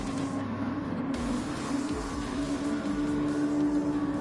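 Mazda touring car engines rev steadily at Tsukuba Circuit in a racing game lobby, a continuous buzzing drone holding high and even across the whole stretch, with no talk over it.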